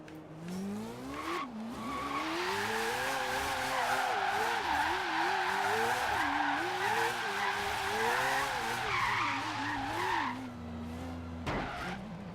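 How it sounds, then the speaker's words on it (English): Mad Mike's four-rotor Mazda RX-7 drifts with a loud, steady tyre squeal that wavers in pitch over a droning rotary engine, lasting about ten seconds before easing off, with no voices. "So let's hear the 4-rotor Mad Mike."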